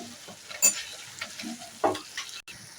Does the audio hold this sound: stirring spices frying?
yes